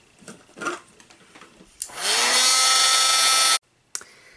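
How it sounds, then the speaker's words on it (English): A craft heat tool blows hot air onto a crafted piece as it dries, a loud steady whooshing roar that runs for nearly two seconds and then cuts off, followed by a brief restart. "I'm going to put my heat tool to it to dry it up a little bit quicker"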